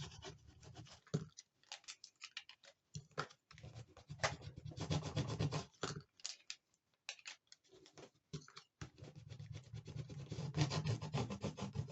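Transfer tape is rubbed over vinyl cut-out letters on a candle, giving soft quick scratching and ticking strokes in irregular bursts with short gaps, close but quiet.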